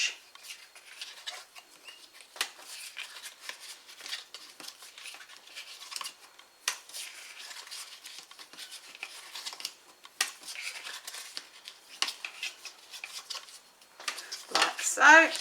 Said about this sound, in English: We'll give this a nice fold and burnish.